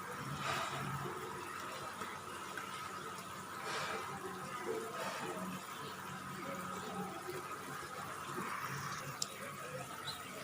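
Hilsa fish pieces slipped into boiling curry water with green banana, giving a steady, moderately close bubbling and watery churning that runs continuously for the whole stretch.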